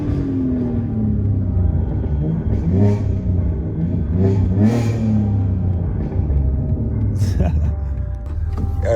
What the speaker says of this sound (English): The bro said rev it.